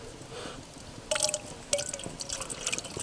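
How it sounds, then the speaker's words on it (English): Milk pours into a bowl of pre-mixed dry ingredients at an outdoor winter camp cook, with broadband liquid splashes starting about a second in, pausing, then continuing steadily to the end, close and moderately loud. "Now I need some milk, 400 mils"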